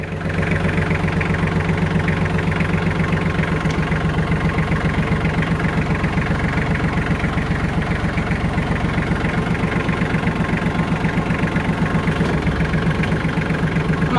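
A Kubota tractor engine idles steadily just after a cold start, a loud, even diesel rumble that runs unbroken throughout.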